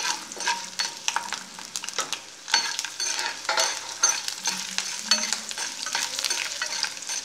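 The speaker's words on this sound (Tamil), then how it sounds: "இஞ்சி வந்து நல்ல அந்த எண்ணெயிலேயே கொஞ்சம் வதங்கும் போது அதனுடைய வாசனையெல்லாம் போயிடும்" Lentils, ginger and garlic frying in oil for a curry leaf chutney, with close, busy stirring and scraping over a constant crackling sizzle throughout.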